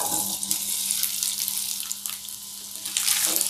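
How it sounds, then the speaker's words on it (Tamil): Marinated baby potatoes drop into hot oil in a pan and give off a loud, hissing sizzle that swells again near the end, with no talking. "ஆயில் சூடாயிடுச்சு, இப்போ இதில் மேரினேட் பண்ண உருளைக்கிழங்கை சேர்த்துடலாம்"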